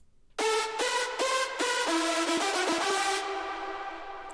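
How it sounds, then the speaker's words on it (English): Solo hardstyle lead synth built from three layers in FL Studio 20: a loud, bright, buzzy melodic phrase of repeated stabs that then rings out and fades with a reverb tail. "And the lead on its own sounds like this."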